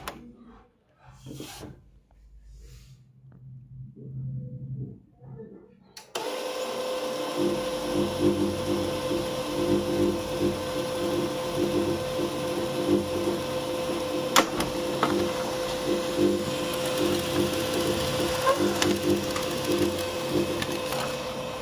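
A Canon MF 3010 printer starts up after a few quiet clicks and handling noises, then runs with a steady mechanical whir and faint rattles as it feeds and prints a page, close and continuous.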